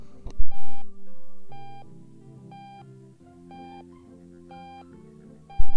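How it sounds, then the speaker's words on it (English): Phone ringing in the Octodad video game: a repeating electronic ring of bright stepped tones in regular bursts over a soft droning hum, with a couple of thumps at the start and end and no talking. "Oh my god, it's still ringing. Why is it still ringing?"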